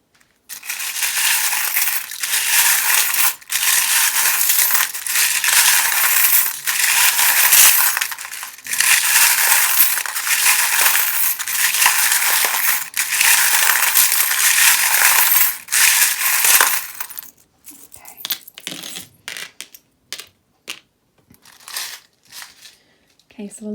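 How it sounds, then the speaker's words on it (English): Small metal charms shaken and rattled inside a metal tin, a dense, continuous jangling clatter for most of the clip, then settling into sparse, scattered clinks and taps near the end. "They're metal charms in a metal tin."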